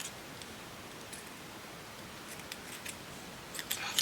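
Scissors snip through material during vintage craft work, a few faint, quick cutting sounds that grow slightly louder toward the end, heard close with no voices.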